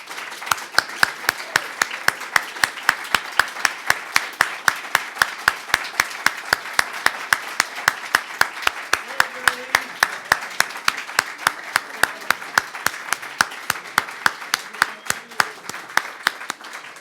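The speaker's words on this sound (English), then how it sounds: "we'll have one final round of applause" An audience at an awards ceremony claps steadily in a sustained round of applause. The sound is mid-distance and dense, with crisp individual claps standing out throughout.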